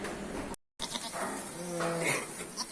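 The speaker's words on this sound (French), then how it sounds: "Ah oui, c'est des chèvres laitières, ça." Dairy goats bleat in a cheese-farm goat barn, several short wavering calls close by after a brief gap, against a steady barn background with no talk.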